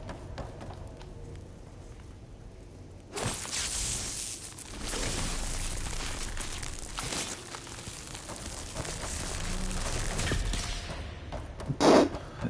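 Explosive blasting in the video game Horizon Forbidden West, a sudden loud boom followed by rumbling debris and sustained roaring noise, with another sharp blast near the end.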